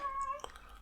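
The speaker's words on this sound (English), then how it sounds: "oh my goodness, cat." A cat gives a single short, close meow indoors, followed by faint shuffling, with no speech.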